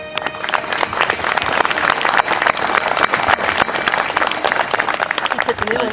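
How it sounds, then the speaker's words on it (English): Loud, dense applause from a crowd at a political rally fills the whole stretch without a break, steady and close, with no speech over it. "please give me your attention and a warm round of applause, Mr. Tim Powers."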